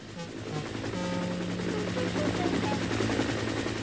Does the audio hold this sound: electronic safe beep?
no